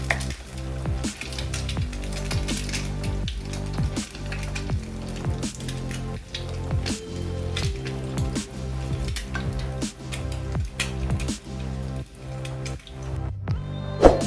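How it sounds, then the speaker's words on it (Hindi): Bread pieces for French toast fry steadily in a pan, with a constant crackling sizzle and scattered popping throughout, close and moderately loud, with no voices. "उनको भी फ्राई कर लेंगे।"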